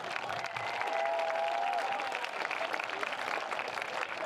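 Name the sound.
football homecoming crowd applause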